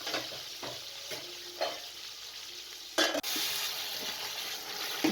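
Boiled beef and potatoes are stirred in a pot over a medium flame for beef pulao: a steady sizzle with several scraping stir strokes and a sharper clatter of the spoon partway through, close by.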